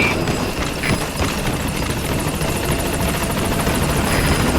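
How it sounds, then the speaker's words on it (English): Steady helicopter rotor chop fills the scene in Metal Gear Solid V as a support helicopter arrives at the landing zone, a continuous close, loud thumping whir with high engine whine, no voices. "Support helicopter has arrived."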